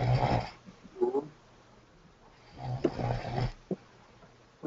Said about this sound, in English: We should mute it because someone is snoring.